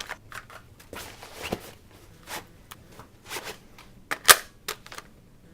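A rapid shooting and magazine reload drill in a tactical training exercise produces a string of sharp, separate pops and clicks at uneven intervals, one standing out louder near the end, over quiet background.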